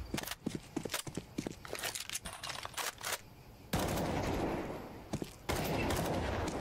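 Rapid gunfire from Counter-Strike Wingman, including Desert Eagle shots, crackles in dense close bursts, then gives way to sustained loud noisy stretches with brief gaps and no talk.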